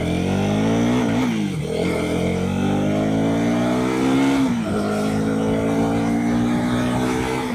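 A KTM Duke 250 motorcycle pulls away in first gear, its engine note climbing steadily, with a brief dip at each gear change. The exhaust stays close and loud throughout.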